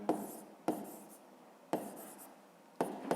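A pen scratches across paper during a seventh-grade physics lesson, with four separate writing strokes, some longer and some quick. The strokes sound close and soft, with no voices.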